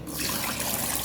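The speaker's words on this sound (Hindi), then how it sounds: "अब इसमें हम डाल देंगे 2 से 3 गिलास जितना पानी।" Water pours steadily into a cooker pot of browned beef with ginger, garlic and black cardamom for nihari, a brief, close, continuous splashing gush.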